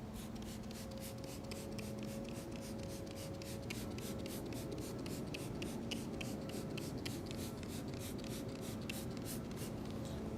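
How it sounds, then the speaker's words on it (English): Orange degreaser is sprayed onto motorcycle wheels in a steady stream of rapid hissing bursts, quiet and close, with a faint background hum. "I'm gonna grab some orange degreaser and spray a nice even coat throughout the wheels."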